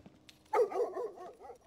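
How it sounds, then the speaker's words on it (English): A dog barks in an episode of the TV series Invasion: after a quiet start, a loud burst of barks and yips rises, then trails off into softer, uneven yelps. "Sounds like a dog."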